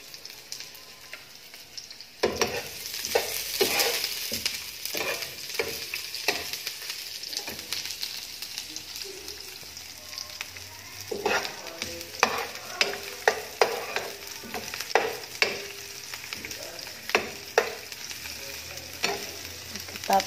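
Garlic and onions fry in a pan for a squash pancit canton, a close steady sizzle broken by repeated scraping and clacking stirs, with no voices.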